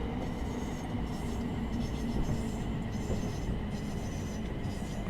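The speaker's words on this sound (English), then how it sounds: "we get some braking because it is 30 coming into Gravesend" A Thameslink Class 700 train in Train Sim World 3 brakes as it comes into Gravesend, giving a steady, close rail rumble with a continuous hiss that holds level throughout.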